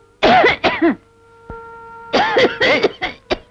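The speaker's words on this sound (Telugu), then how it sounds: "దగ్గు ఎక్కువైనట్టలే ఉంది" A man in a Telugu film scene coughs harshly, first in two quick fits and then in a longer run of rough, throaty hacks. The sound is close and loud, with no speech.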